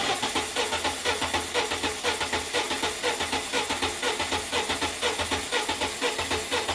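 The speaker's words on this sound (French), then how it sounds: "tu peux lancer le moteur" A car engine cranks and runs with a fast, even pulsing rhythm, loud and close, heard during a mechanical health check of the engine.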